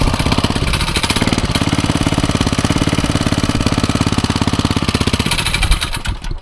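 A small auction-bought engine runs loud and close with a rapid, choppy firing rhythm, its revs rising slightly as it is given a little gas after the choke is released.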